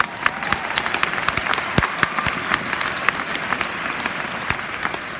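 A crowd applauds the faculty at a Kimberley High School commencement, a steady wash of many hands clapping with sharp individual claps standing out, sustained throughout at moderate loudness.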